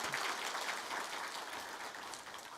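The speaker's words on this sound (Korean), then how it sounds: "격려의 박수" A church congregation applauds in encouragement during a Sunday service, a dense steady wash of clapping filling the whole moment without talk.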